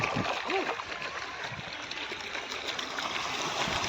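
Water gushes steadily from a farm irrigation motor pump into a field channel, a continuous close rushing flow with a brief faint vocal sound near the start.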